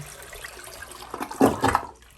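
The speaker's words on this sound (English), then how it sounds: "The toilet is still flushing. I'll flush that." A home toilet in Austin, Texas flushes under low water pressure, a gurgling rush that swells midway and then drains away, heard close in a quiet room.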